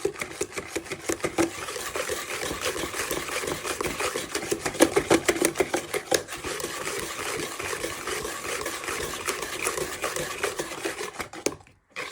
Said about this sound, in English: once your sugar has dissolved into your eggs and you've given them a good whisk